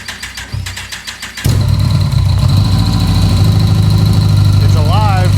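A classic Mini car engine cranks with a rhythmic starter churn for about a second and a half. It then catches and settles into a loud, steady idle, with a voice briefly audible over it near the end.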